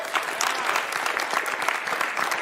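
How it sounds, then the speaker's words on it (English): Steady applause from the audience at a boxing press conference in Abu Dhabi, a dense patter of many hands clapping at even volume throughout the short stretch. "So I thank you for the claps."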